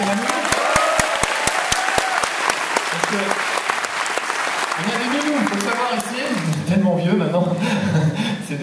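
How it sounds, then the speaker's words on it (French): Loud audience applause at a conference at the Toulouse Game Show, with rapid clapping that fades after a few seconds, then people talk and laugh over the last of it. "Sébastien, vous pouvez l'applaudir, mesdames, et messieurs"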